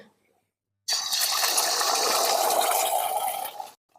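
Beaten egg poured into a pan of hot oil while cooking a pumpkin and greens dish in a village kitchen, giving a bright, steady sizzle that bursts in abruptly, holds for about three seconds and then cuts off.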